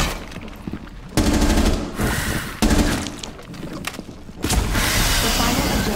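Rapid bursts of gunfire in the video game Rainbow 6 Siege, loud and close, with dense automatic volleys starting and stopping in several stretches over a background of game noise.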